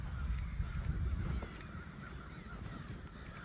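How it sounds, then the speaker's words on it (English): Crows caw in the distance, faint scattered calls over a low outdoor rumble, no one speaking. "all the crows are going crazy over here"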